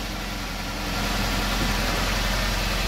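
A Tofaş Doğan car engine idling just after its first start in two and a half months, a loud, steady, close rumble with constant vibration and no voices.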